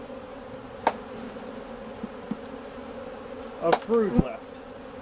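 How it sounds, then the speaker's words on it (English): Honey bees buzz steadily around an open hive on a queen-grafting day, a constant droning hum with a few louder passes near the end and a brief bit of talk. "Now they're getting a little aggravated with this, which is, you know, that's kind of bees."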